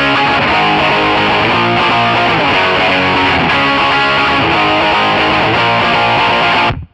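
Electric guitar played through an Amplitube 5 slash-style booster with a heavily distorted pop punk tone, loud chugging chords that ring steadily, then cut off abruptly at the end.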